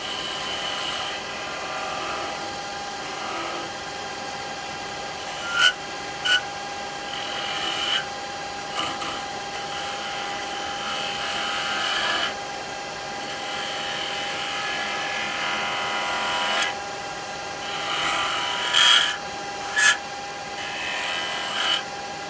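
A small quarter-inch spindle gouge cuts wood on a running lathe while turning snowman hats, giving a steady whirring scrape with brief louder catches and taps scattered throughout, close and alone without talk.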